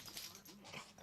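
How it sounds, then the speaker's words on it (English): A dog whimpers softly indoors, a few faint whining yips over about a second, heard alone and quiet. "I gotta let the dog out."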